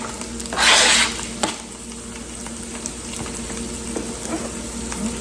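Vegetables and onions sautéing in canola oil in a skillet give a loud burst of sizzle as they hit the pan, then settle into a softer steady frying hiss with occasional clicks of a utensil.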